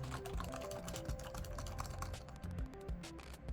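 A Lenovo SK-8855 ThinkPad keyboard, a worn unit with a TrackPoint, is typed on with rapid, close key clicks and clacks. The strokes come in an uneven rhythm over a steady low hum, with no speech.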